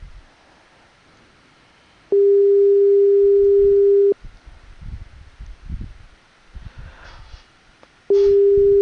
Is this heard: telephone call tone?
yes